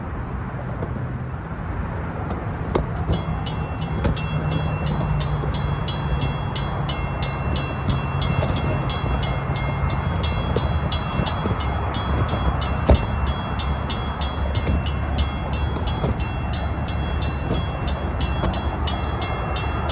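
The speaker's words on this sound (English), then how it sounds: "And there's another train over there." A train rumbles past steadily for the whole stretch, a continuous loud rolling roar with metallic squeal and clatter, no voices.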